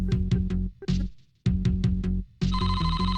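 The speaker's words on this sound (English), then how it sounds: "Okay, so we got a phone call." Ringing telephone in the Famicom Detective Club II video game, a chiptune-style repeating ring in short bursts separated by brief pauses, then a brighter electronic tone at the end, loud and alone.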